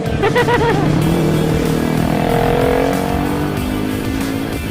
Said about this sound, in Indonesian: Udah berisik banget nih motor ini nih.